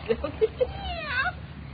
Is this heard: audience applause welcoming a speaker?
no